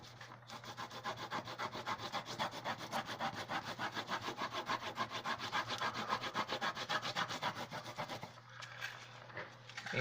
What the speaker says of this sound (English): we're gonna get the scraper, Cricut scraper or a bone folder or something at least. And we're gonna go ahead and just burnish this down really well.